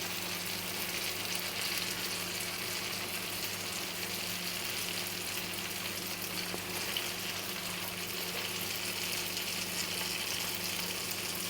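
Unniyappam batter frying in hot oil in a steady, even sizzle that carries on without a break, close and fairly quiet, with no voices over it.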